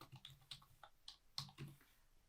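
Faint, sparse keystrokes on a computer keyboard while a page title is entered in an HTML file, about a dozen irregular clicks spread over a couple of seconds, quiet and close.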